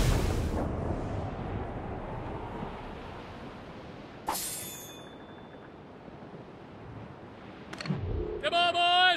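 Ship cannons firing aboard a vessel in Assassin's Creed Rogue, with a deep booming blast at the start that fades into rumble, then further sharp cracks, heard over sea ambience and ending with someone shouting.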